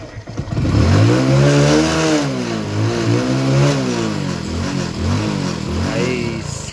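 A car engine starts and revs hard, its loud rising and falling roar held steady for several seconds in an outdoor rural setting, close to the listener with no talk over it.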